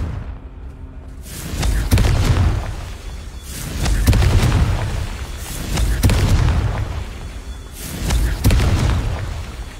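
Repeated Confringo blasting-spell explosions in Hogwarts Legacy, four heavy booming blasts spaced about two seconds apart, each with a sharp crack and a rolling low rumble, loud and close with no talking.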